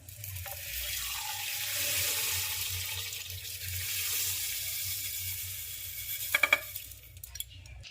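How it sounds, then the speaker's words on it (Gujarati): Water pours steadily into a metal pressure cooker holding black mung beans, a soft continuous splashing, followed by a few clinking metallic knocks near the end. "આ રીતે પાણી નાખવાનું અંદર કુકરમાં"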